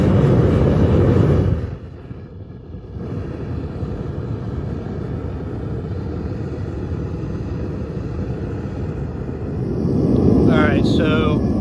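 A throttled-down furnace heating a crucible for aluminum casting gives a steady, continuous low roar that dips briefly early on and swells louder near the end.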